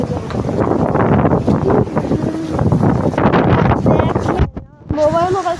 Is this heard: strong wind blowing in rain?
yes